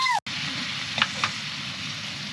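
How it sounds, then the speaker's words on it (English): Abalone sizzles and fries steadily in ghee with garlic and salt in a pan at an outdoor campsite, a constant crackling hiss with a couple of brief clinks of a utensil. "So we've got some garlic, some ghee and some salt and frying up the abalone."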